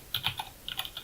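Keyboard shortcuts are typed on a computer keyboard as a quick burst of about ten light, close key clicks with an uneven rhythm and no talk.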